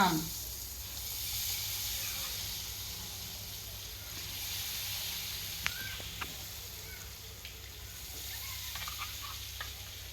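Bhaji fritters frying in hot oil, a continuous loud sizzle and hiss at close range with a few faint pops and clicks, and no voice over it.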